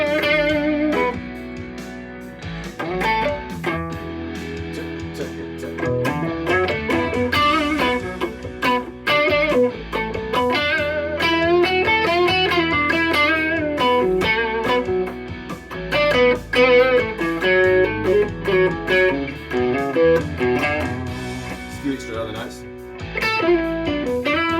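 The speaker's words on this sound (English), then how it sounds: "I just put a bit of distortion on." Electric guitar lead with a bit of distortion, played as a steady, continuous melodic solo over a rhythmic backing, loud and near throughout, with no talking.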